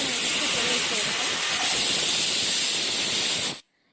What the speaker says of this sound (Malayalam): ഇപ്പോൾ ഇതിൽ രണ്ട് വിസിൽ വന്നിട്ടുണ്ട് ഇനി ഇതിലെ ആവി കളഞ്ഞ ശേഷം കുക്കർ ഓപ്പൺ ചെയ്യുക